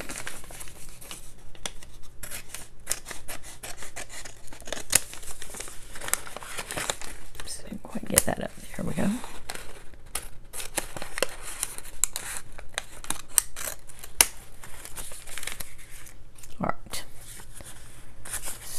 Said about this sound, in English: Then I'm going to go up in here and just cut around the bottom panel.